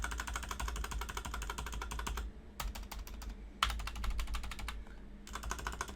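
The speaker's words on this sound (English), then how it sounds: "See how loud that is?" Fast typing on a GK61 budget 60% mechanical keyboard with pre-lubed stabilizers, a dense clatter of keystrokes up close that breaks off in short pauses.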